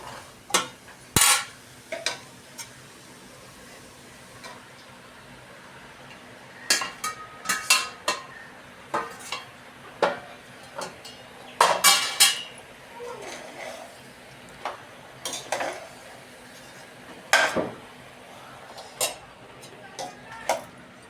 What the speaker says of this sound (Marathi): आता ह्याच्यामध्ये पास्ता टाकून घेऊया आपण.